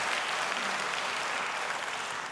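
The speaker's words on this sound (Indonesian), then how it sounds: "beri tepuk tangan yang baik buat dia" Dense applause from a church congregation, a continuous wash of clapping that holds steady throughout with no voices over it.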